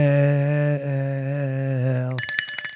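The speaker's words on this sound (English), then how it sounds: "You can ring Doug's bell" A steady ringing tone holds for about two seconds, then shifts into a quick burst of bright metallic chimes at the end.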